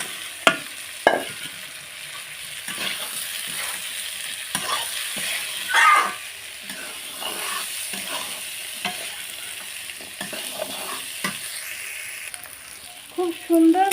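Potatoes and sliced bitter gourd fry in hot oil in a pan with a steady sizzle, broken by several sharp scraping stirs of a spatula over about fourteen seconds; no one speaks.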